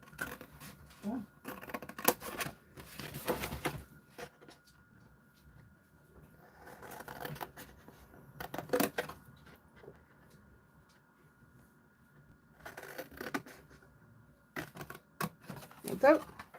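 Large scissors snipping through card along a score line, several bursts of crisp close cutting and scraping separated by quieter gaps, with a voice speaking at times.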